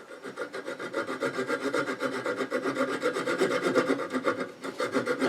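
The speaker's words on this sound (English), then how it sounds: "Always move the tool rest out of the way when sawing." Rhythmic rasping of a saw cutting through wood on a lathe, fast steady strokes continuing throughout, close and moderately loud with no voices.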